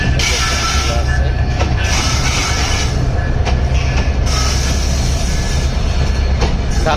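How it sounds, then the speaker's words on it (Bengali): A long passenger train rolls into the Dhaka Airport railway station with a steady, loud rumble of wheels and carriages that continues throughout, with faint crowd noise from the platform beneath it. "এই যে ট্রেন চলে আসছে।"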